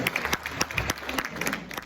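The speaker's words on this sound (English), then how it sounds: "Give yourself a round of applause." An audience at a California political meeting gives itself a round of applause, scattered claps in a room of moderate size, somewhat faint and uneven, with a few sharper claps standing out.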